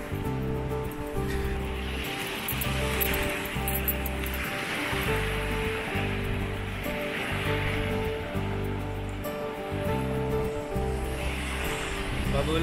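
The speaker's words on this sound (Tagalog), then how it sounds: "Lakas ng alon, oh." Strong ocean waves break along a shore on Saipan, a continuous wash of surf under nearby voices.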